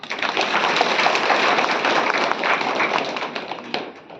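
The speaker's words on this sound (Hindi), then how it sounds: "जोरदार तालियां" Loud, dense applause from an audience at a World Peace Day satsang gathering in Chamba, steady and continuous throughout with no speech over it.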